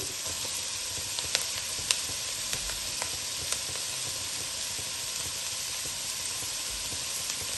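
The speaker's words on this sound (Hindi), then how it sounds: "दो मिनट तक आपने इसको भी इसी तरह फ्राई करना है और अब हम इसमें शामिल कर देंगे बंद गोभी" Shredded cabbage stir-fries in a hot pan for restaurant-style egg fried rice, giving a continuous bright sizzle and hiss with a few sharp spatter pops and faint stirring, close up and with no talking.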